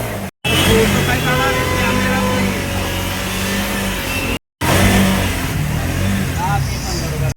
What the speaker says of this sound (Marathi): फायनली रिक्षा चालू झाली आहे.